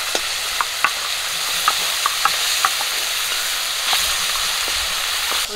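Small fish frying in hot oil in a wok, a continuous bright sizzle with occasional sharp pops and spatters throughout, close and steady with no talking.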